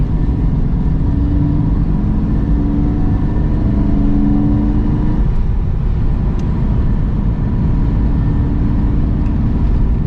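A 1985 Ford Fiesta Mk2 with its 1.1 engine and new exhaust drones steadily while driving, a loud, constant low hum with a slight booming resonance heard from inside the cabin.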